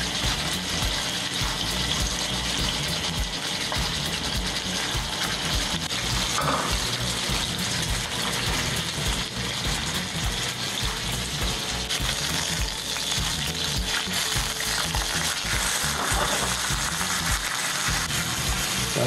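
Costco pork belly (samgyeopsal) sears in a lightly oiled pan, giving a steady, dense crackling sizzle with spattering pops that continues loud and unbroken for the whole stretch, with no talk.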